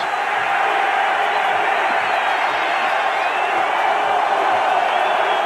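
A college football stadium crowd at a Penn State versus West Virginia game cheers in a broad, steady roar that carries from a distance with scattered whoops above it.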